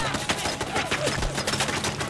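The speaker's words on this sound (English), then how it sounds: "Good lord, stop shooting at me!" Gunfire in the video game Fallout 4 rattles in a fast, dense string of shots, loud and close, lasting about two seconds.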